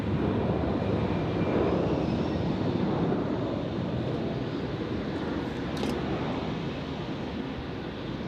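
An Edelweiss airliner departing foggy Zurich Airport for Faro, engines producing a dense, continuous rumbling roar that stays loud and slowly eases toward the end, heard alone without talk.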